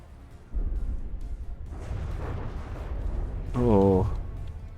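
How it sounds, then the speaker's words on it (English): Rapid cannon fire rakes across an aircraft carrier's deck in the naval game From the Depths, a dense stream of booms and impacts that builds into a louder burst near the end, with a voice speaking over it. "Proper raking fire across the deck there."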